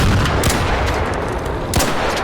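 Loud, continuous gunfire in the video game Arc Raiders, a dense rapid stream of shots with a couple of sharper bursts standing out, filling the whole moment with no talk over it.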